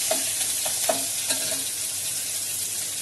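Ginger and green chili pieces frying in a pan for Bombay chutney, a steady soft sizzle with a few sharp stirring clinks near the start, close and alone.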